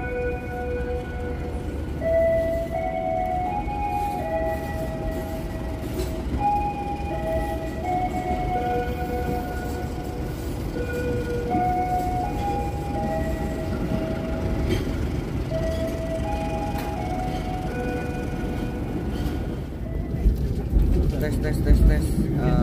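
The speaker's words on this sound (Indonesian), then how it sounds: "Setelah kereta api Pasundan, barulah kereta api Malabar diberangkatkan." The Malabar passenger train departs Leles station in Indonesia with a constant low rumble of wheels and carriages, while tonal chimes or melodic sounds ring out above it and voices murmur faintly in the background throughout.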